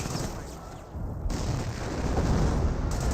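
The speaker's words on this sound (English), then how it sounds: "there's a 25 pounder barrage" A 25 pounder artillery barrage in the Company of Heroes real-time strategy game: a dense, continuous roar of overlapping blasts and rumbling impacts, loud and building steadily toward the end.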